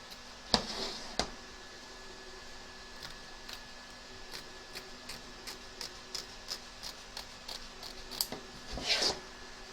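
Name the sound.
scissors trimming excess fabric from embroidery hoop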